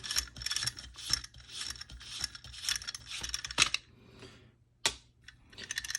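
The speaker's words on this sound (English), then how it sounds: "you can unscrew the back retaining nut." Retaining nut being unscrewed from an X-Products X-15 paintball magazine, giving a run of quiet close-up ratcheting clicks and small metallic mechanism rattles with a few sharper ticks and short pauses.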